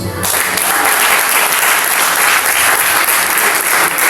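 A church congregation at a Sunday service breaks into loud, dense applause acclaiming Jesus, the clapping close and continuous throughout.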